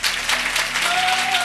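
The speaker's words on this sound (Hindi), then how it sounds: "तो ना जोर से पवित्र आत्मा के लिए ताली बजाएं।" A church congregation claps loudly together for a steady, dense stretch of applause, with a faint sustained tone and a murmur of voices underneath.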